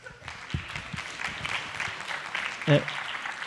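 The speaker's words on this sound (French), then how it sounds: "On peut aussi les applaudir." An audience at a collective-meaning lab event applauds as several guests are invited up, light, thin clapping mixed with voices and movement, with one louder knock near the end.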